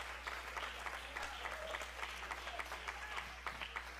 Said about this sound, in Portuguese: Aplauda ao Senhor, aleluia.